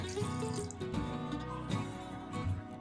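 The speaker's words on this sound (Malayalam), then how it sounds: "ഒരു 1/4 കപ്പ് വെള്ളം ഒഴിക്കുന്നുണ്ടേ." Water poured into a pot of deer meat curry gives a steady, close splashing pour lasting the whole moment, with tonal background sound running underneath.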